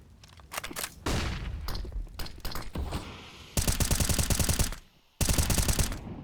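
Rapid automatic gunfire from a competitive shooter match rattles in dense bursts, sprayed through smoke, with a sharp pause between two long sustained volleys after scattered earlier shots.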